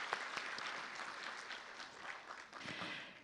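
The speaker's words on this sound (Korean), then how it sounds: "다시 한번 여러분 큰 박수 부탁드리겠습니다." A short burst of applause from an audience at a Korean green building awards ceremony, steady clapping for a few seconds that tapers slightly toward the end.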